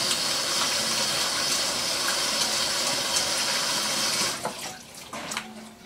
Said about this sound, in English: am gonna wash my hands